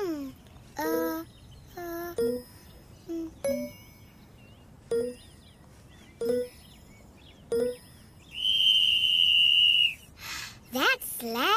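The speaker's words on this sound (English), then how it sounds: "I know, it's a whistle." A loud, sustained whistle blast rings out for about two seconds, set between short bursts of excited voices talking.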